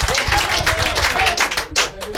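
Studio audience at a French music game show applauding, dense continuous clapping with some voices mixed in.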